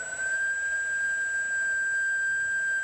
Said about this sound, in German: In der Küche pfeift ein Topf.